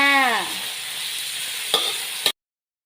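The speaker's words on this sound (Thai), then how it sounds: "ทอดทอดทอดกำลังทอดไปจ้า" Grasshoppers sizzle while frying in a pan, a steady close hiss with stirring scrapes and two sharp clacks near the end before it cuts off.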